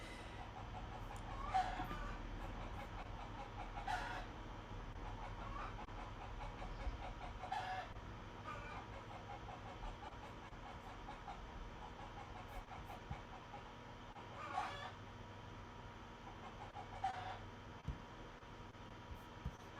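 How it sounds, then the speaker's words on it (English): Chickens clucking just outside a window, faint and intermittent bursts of fowl calls spread across a quiet room background, with a low rumble underneath. "Those chickens are really talking today."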